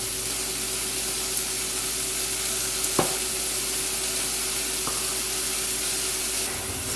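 Onions and pre-peeled garlic sizzle steadily in a hot skillet, a continuous close frying hiss with a few faint clinks. No one speaks.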